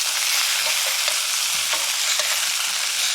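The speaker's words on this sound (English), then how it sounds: "they've had a few minutes of sizzling away" Sausages from Donohue Quality Meats sizzle and fry steadily in a pan, a dense continuous crackle with scattered small pops, close and moderately loud, with no talking.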